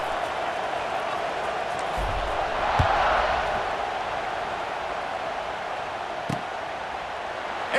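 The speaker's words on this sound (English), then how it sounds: "this crowd is buzzing after that last score" Stadium crowd noise from the EA Sports College Football 26 video game, a steady broad murmur that swells slightly, with a couple of faint thuds beneath.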